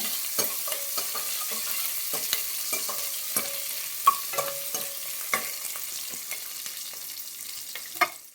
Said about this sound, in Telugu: తెల్లగడ్డలు ఉల్లిపాయలు బాగా ఎర్ర వేయినాయి